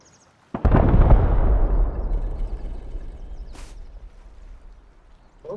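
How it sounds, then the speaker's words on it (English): A single loud explosion in the survival video game Rust bursts out abruptly after a moment of near silence, then rumbles and decays slowly over several seconds, with a brief sharp noise near the end. "I just heard, like, fucking explosion."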